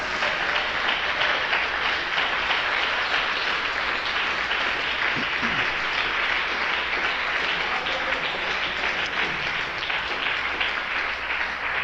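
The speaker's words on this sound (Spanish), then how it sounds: "un aplauso fuerte para Jesucristo" Church congregation applauding, a steady, full round of clapping from many hands filling the room for over ten seconds without a break.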